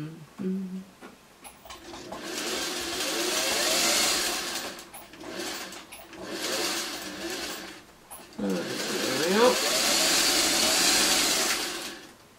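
A sewing machine whirs in several bursts of a few seconds each, stopping and restarting, close by, with a voice speaking in the pauses.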